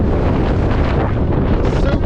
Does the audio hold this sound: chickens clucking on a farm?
no